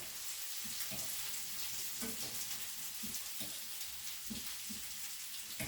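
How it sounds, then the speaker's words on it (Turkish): Food sizzling and frying in its own fat in a pan with no added oil, a steady bright crackle with soft rhythmic stirring scrapes, close and alone. "yağ koymadan pişiyor şu anda arkadaşlar"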